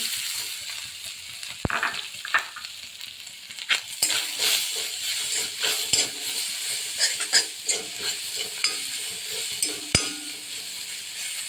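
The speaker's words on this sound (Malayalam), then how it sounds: "തേങ്ങ വറുത്ത് ഏകദേശമായി കുറച്ചും കൂടി ആകാനുണ്ട്" Dry crackle of grated coconut with cumin roasting in a pan for sambar, with scattered scrapes and clinks of a spoon against metal, fairly close and soft.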